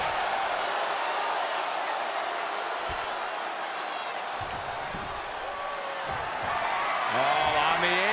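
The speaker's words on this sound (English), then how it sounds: "With every move you make, you hear this capacity crowd following you on that journey." Capacity arena crowd in the WWE 2K23 wrestling video game during a Hell in a Cell match, a steady loud roar of cheering throughout, with commentary voices over it.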